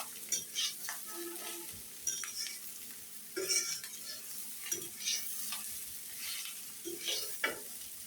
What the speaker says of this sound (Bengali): মাছ দেওয়ার পর 2 মিনিটের মতো ভেজে নিতে হবে।